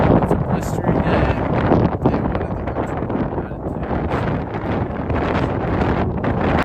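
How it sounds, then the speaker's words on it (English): Strong wind blows outdoors during a Colorado archery deer hunt, roaring and buffeting the microphone loudly and continuously with rough gusts. "It's pretty windy. It's a blistery day."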